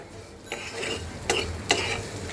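Shrimp and parboiled potatoes sautéed in a pan over low heat, with a spoon stirring and scraping through them in a few distinct strokes over a soft, steady sizzle.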